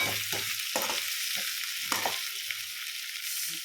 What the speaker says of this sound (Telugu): పసుపు వేసి మీడియం ఫ్లేమ్లో బంగాళదుంపలు కొంచెం ఎర్రగా అయ్యే వరకు వేగించాలి